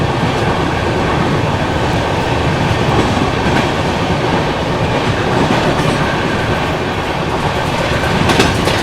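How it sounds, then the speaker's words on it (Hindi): An Indian express train, the Kashi Mahakal Express, overtaking the Gorakhpur LTT Express, heard as a loud, continuous roar of wheels and rattling carriages with steady clickety-clack, close and unbroken throughout, no voices. "ये देखो भाई साहब ट्रेन निकली है और हाल क्या ओवरटेक मार रहे हैं हम लोग गोरखपुर LTT एक्सप्रेस को।"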